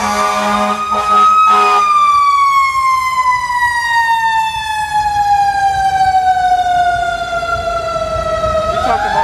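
Loud ambulance siren with a long, slowly falling wail that repeats, close and dominating everything else.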